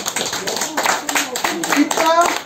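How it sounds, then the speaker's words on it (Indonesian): A classroom of students clapping hands during a dance lesson, an uneven scatter of claps mixed with voices and chatter, fairly close and loud, with a voice rising near the end. "Tepuk tangan untuk Enu."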